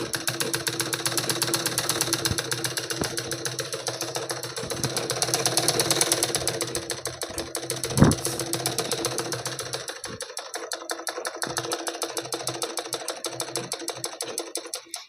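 A sewing machine stitching along the cross belt of a blouse runs in a fast, steady mechanical rhythm, close and clear. It pauses briefly near the middle, then resumes a little quieter.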